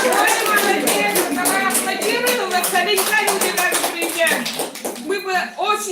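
Audience members at a presentation clap along in quick rhythmic bursts, close and bright, while voices speak or sing over the clapping.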